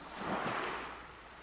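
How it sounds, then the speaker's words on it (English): Waves of the Adriatic Sea wash onto a beach in Croatia, a steady soft surf hiss with gentle swells, heard close and fairly quiet with some wind buffeting. "you'll be able to hear the really therapeutic sounds of the Adriatic Sea, which I'm sitting in front of"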